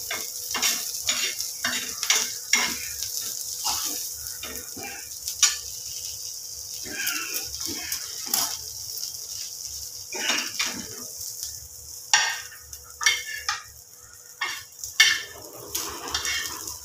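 Chillies fry with garlic and spices in a hot pan, light sizzling under repeated scraping and stirring strokes that tick and clatter irregularly, close up, with no voices.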